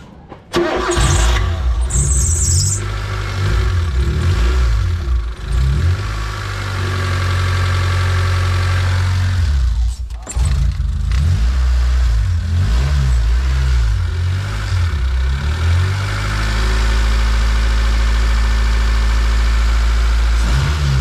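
Mitsubishi 4G93 engine with a fault that keeps it from staying running: it cranks and starts, then runs loudly and close with repeated revs rising and falling over a steady idle, dipping briefly midway before picking up again.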